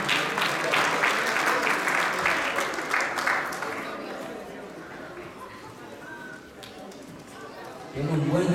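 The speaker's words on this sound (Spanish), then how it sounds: "Un aplauso fuerte a nuestro Dios." An audience claps for a prize winner at a giveaway for a car, a loud round of applause that fades after a few seconds, followed by scattered chatter and a voice at the end.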